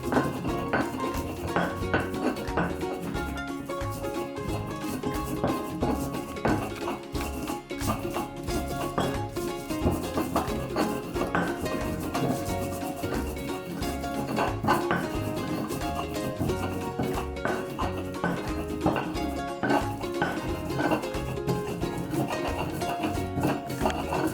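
Chili is ground to a paste with a stone pestle in a flat stone ulekan while preparing Betawi mie slat: steady, close scraping and clinking of stone on stone, continuing without pause for the whole stretch with no talking.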